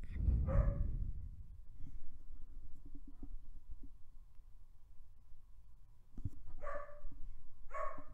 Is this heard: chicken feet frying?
no